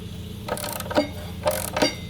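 Breaking the torque on the front axle of a Yamaha FJ-09 motorcycle with a wrench: a few ratcheting clicks and mechanical clacks in short bursts, close by, with no talk.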